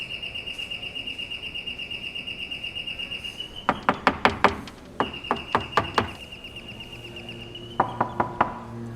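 Sharp knocking on a locked apartment door in bursts of rapid raps, fairly close, separated by pauses, with a steady high tone and faint bird chirps in the background.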